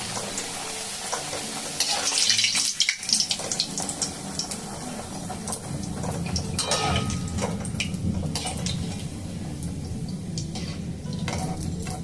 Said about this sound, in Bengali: তো আমি এখন দিয়ে দিচ্ছি একটা একটা করে এবারে ভেজে নেবো